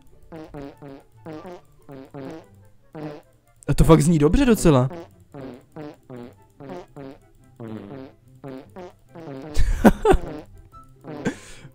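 Cartoonish fart noises from the video game Farting Simulator, a rapid string of short, evenly spaced squeaky puffs forming a rhythmic beat, broken by two louder, rougher blasts, with people talking in places.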